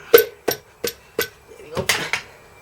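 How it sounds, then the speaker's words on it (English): A small mallet knocks a part out of a blown-up Formula Ford race engine during teardown, with about eight sharp, close metallic raps in an uneven rhythm and the last few coming more quickly together. "I do like my little mallet."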